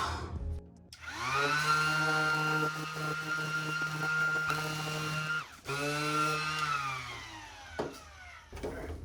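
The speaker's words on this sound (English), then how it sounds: "So my sander isn't reaching this part nicely" A power sander runs against a 2008 Honda Civic Si side skirt, a steady whirring hum that cuts out briefly mid-way and then resumes, loud and close with no talking.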